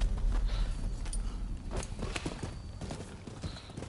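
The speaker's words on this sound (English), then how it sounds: "Oh, we need to go on our horses again." Horses clip-clopping in the video game Rise of Ronin, a steady close rhythm of hoofbeats on the ground lasting throughout, with no talk over it.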